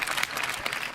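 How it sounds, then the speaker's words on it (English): A room full of people applauding together in a steady, dense wash of clapping that holds for the full second at moderate distance, with no voices standing out. "give yourselves a round of applause"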